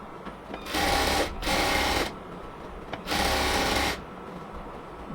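Sewing machine stitching seams on salwar pants, three loud bursts of rapid mechanical whirring separated by short pauses with quiet room background between runs.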